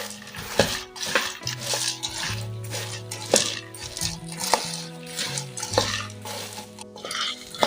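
Fox nuts (makhana) roasting in desi ghee, stirred with repeated clinking and scraping of a utensil against the pan, close and busy, with light sizzle beneath and sustained metallic ringing tones.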